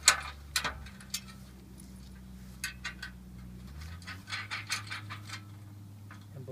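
Metal bolts being fastened on a Puxin biodigester mold: a few sharp clicks and taps near the start, then softer scattered ticks and rattles over a steady low hum.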